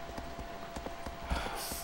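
Horse hooves in a video game, a quiet, rhythmic clip-clop of regular hoof beats over a faint hissy background.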